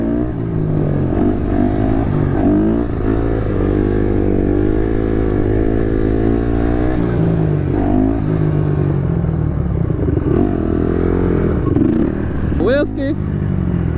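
Dirt bike engines, one with very low tires, drone steadily and close throughout an off-road ride, rising and falling in pitch with a brief sharper rev near the end, while voices talk over them.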